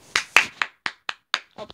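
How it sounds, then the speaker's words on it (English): Slow, evenly spaced hand claps ring out close and crisp, about seven of them in under two seconds, alone against silence. "What was that clapping sound?"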